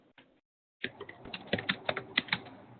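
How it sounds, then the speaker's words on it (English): Rapid, uneven clicking of keys being typed on a keyboard in the background of an online meeting, starting after a brief pause and continuing steadily at close range. "I can hear somebody typing in the background"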